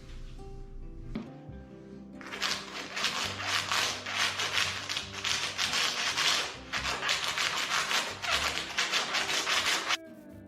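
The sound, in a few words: razor blade scraping epoxy off concrete countertop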